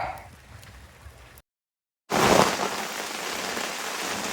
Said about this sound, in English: Well, the rain has officially rolled in.